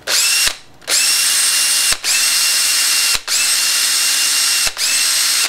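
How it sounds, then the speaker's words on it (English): A power drill whines steadily while boring out the air restrictor of a Nerf Longstrike blaster. It runs in four bursts separated by brief pauses, close and loud, with no talk. "So then you want to just drill."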